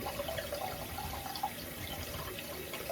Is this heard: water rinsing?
yes